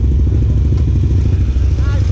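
A Yamaha Sniper 150 motorcycle engine runs up close with a low, steady, throbbing drone and light mechanical clatter throughout, loud and continuous.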